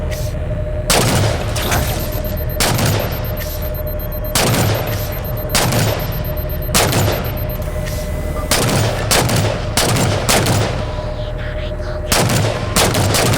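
Heavy gunfire in a Halo 4 campaign battle: repeated loud bursts and booming shots come every second or so over a constant din of combat, with no talking.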